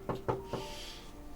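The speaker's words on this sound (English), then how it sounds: "I'm gonna knock on the door." Three quick knocks land on a door, close and fairly quiet, with the last one softer, followed by a low lingering hum.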